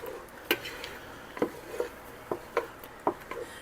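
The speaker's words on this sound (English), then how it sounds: "You need to constantly be stirring it." Strawberry jam thickening in a pot is stirred steadily, with a spoon tapping and scraping the pot's sides in soft, roughly regular knocks about every half second, close but quiet.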